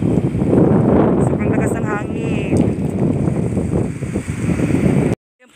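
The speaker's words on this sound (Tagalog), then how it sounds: "sobrang lakas po ng hangin" Strong wind blows outdoors among trees, a loud, rushing roar buffeting the microphone throughout, with a voice speaking underneath it.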